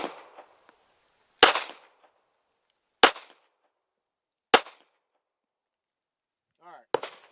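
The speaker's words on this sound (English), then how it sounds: "I'm going to fire a couple rounds" A handgun fires a couple of rounds: four sharp, loud, close shots spaced about one and a half seconds apart, each followed by a short ring-off, with faint handling noise between them.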